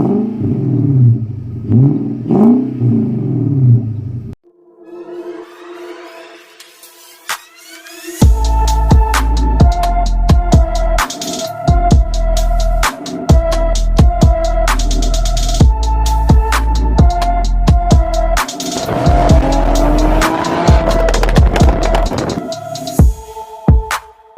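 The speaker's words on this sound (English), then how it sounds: "In this video I wanted to go ahead and show you guys my exhaust on the M45." An Infiniti M45 with a VK45DE engine and blast pipes starts and revs repeatedly, its exhaust roaring in loud bursts with throaty rumbles between, close by and with no talking.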